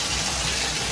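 Tap water gushing into a bathtub for a baby's foam bath, a steady, close rushing stream with no pauses.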